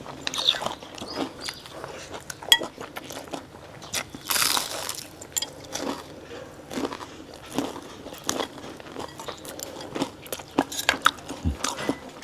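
Crispy deep-fried battered vegetables being bitten and chewed up close, a steady run of crackly crunches and crisp bites at moderate loudness, with one brighter crackling burst partway through.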